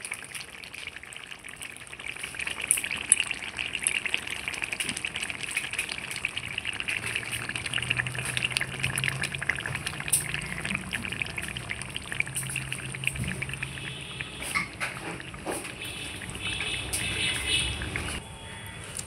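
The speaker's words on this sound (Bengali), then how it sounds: "আমি একটা বাটির মধ্যে ঢেলে নিচ্ছি।" Spicy chicken curry poured from a pan into a bowl, a steady wet pouring and splashing that runs the whole stretch with faint background clatter.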